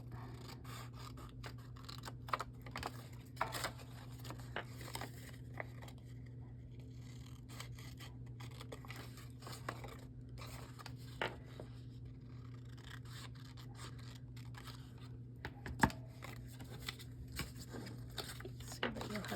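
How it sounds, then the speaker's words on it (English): Printed paper ephemera is trimmed with scissors in soft, irregular snips and paper rustles, close and faint under a low steady hum, with a person talking throughout. "We're going to just do the most simple one here, and that's just by trimming these out."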